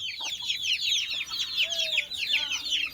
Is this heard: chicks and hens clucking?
yes